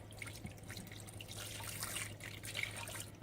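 Water splashes and trickles steadily into a cooking pot over spaghetti squash and meatballs, a soft continuous pour with faint drips and a low background hum.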